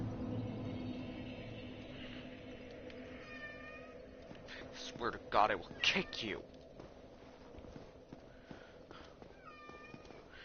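An indoor house cat meows insistently, several drawn-out yowls spread across the scene, with someone talking loudly and angrily over it and some thumping noises midway.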